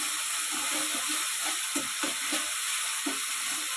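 Cumin, chilli, ginger and coriander paste sizzles steadily in hot oil, with soft intermittent scrapes and clacks of a spoon stirring it through the pan at close range.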